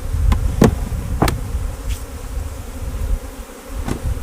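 Honey bees buzz densely and close by while a beehive is split for beginners, a constant droning hum with a few sharp knocks and clicks from handling the hive frames.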